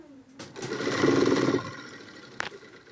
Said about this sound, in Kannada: ಫ್ರಂಟಿಗೆ ಬ್ಯಾಕು ಎರಡನ್ನೂ ಇದೇ ಥರನೇ ಹೊಲಿಗೆ ಹಾಕ್ತಾಯಿದ್ದೀನಿ ನಾನು.